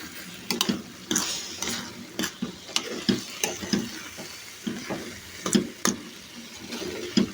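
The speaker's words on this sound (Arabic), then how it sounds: "صافي دابا غنبقى نخلط واحد شويه على ما تنشف مزيان وغادي نطفي عليها" Herb bashmoula, a Moroccan herb mix, stirred in a pan until it dries, with a soft sizzle and repeated sharp scrapes and taps of a utensil against the pan, close and fairly quiet.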